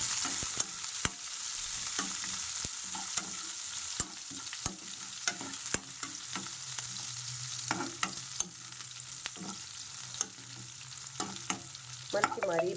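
Onions, green chillies and grated ginger frying in a pan for Bombay chutney, a steady sizzle broken by frequent sharp scrapes and taps of a stirring spoon, close and fairly quiet with no talk.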